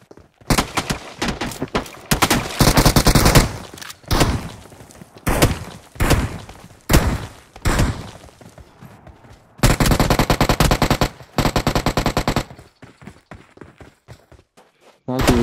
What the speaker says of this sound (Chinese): 这种枪声